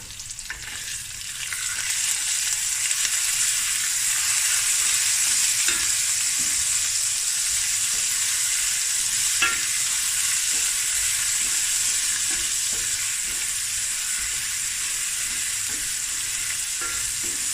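Curry leaves fry steadily in a hot pan with oil, a continuous close sizzle and crackle that holds evenly throughout, with occasional faint stirring ticks and no talking.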